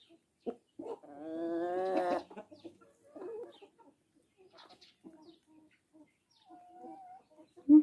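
Wyandotte chickens clucking nearby in short, separate bursts, with one longer, louder stretch of vocalising early on and quieter calls after it.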